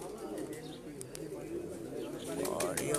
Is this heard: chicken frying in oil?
no